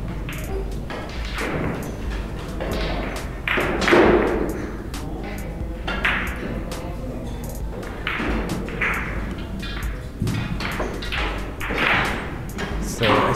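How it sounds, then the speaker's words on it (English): Snooker cue striking balls on a table during a no-look shot, several sharp close clicks and thuds scattered among talking voices. "You can see Tom doesn't look at all to the shot, and he will try to put the ball"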